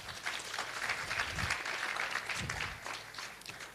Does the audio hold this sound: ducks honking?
no